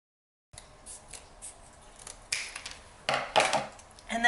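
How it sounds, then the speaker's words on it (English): Scissors snipping through a flattened cardboard toilet paper roll to cut it into rings, a few close, crisp cuts with rustling of the cardboard, growing louder toward the end. "But you cut them into little rings."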